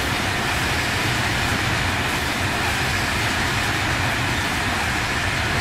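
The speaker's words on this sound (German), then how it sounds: "Wir können uns jetzt mal die Waggons nochmal in der Vorbeifahrt anschauen." In the Transport Fever game, a freight train with sliding-wall wagons rolls steadily past, giving a continuous broadband rumble and hiss with faint wheel clatter, loud and close throughout, with no voices.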